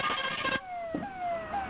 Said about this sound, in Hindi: सायरन सुनाई दे रहे होंगे, एम्बुलेंस के,